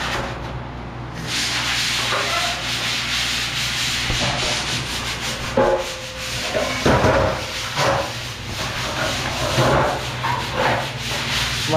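Wood is sanded by hand in repeated rasping strokes, loud and close and continuous, with a few knocks between passes.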